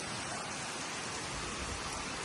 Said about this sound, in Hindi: बड़ी तेज बारिश चल रही है